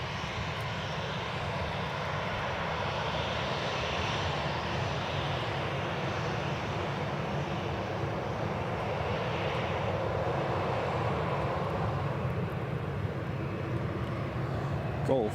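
A Sun Express Boeing 737-800 at Newcastle Airport gives a steady, loud jet engine roar that holds evenly throughout.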